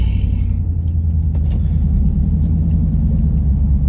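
A Whipple-supercharged Ford F-150 at a drag strip gives a steady, loud low engine rumble under wheelspin through the launch, with a brief brighter burst at the start and no talking.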